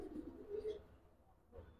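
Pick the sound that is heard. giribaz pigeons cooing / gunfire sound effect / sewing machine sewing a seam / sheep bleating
giribaz pigeons cooing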